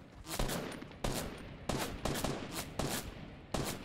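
Gunfire in a Fortnite Battle Royale 50v50 match: six loud, sharp shots ring out at roughly even half-second intervals, each followed by a short decaying tail, with no talk.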